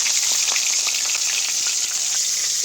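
Tilapia fish frying in hot oil, a steady dense sizzle with crackling pops running loud and continuous throughout, no voices.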